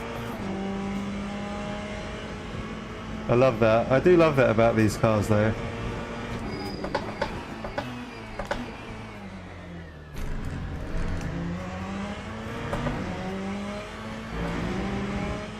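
A GTE racing car engine in the video game Le Mans Ultimate revs and shifts through gears with a buzzy, high-pitched whine, while someone talks over it.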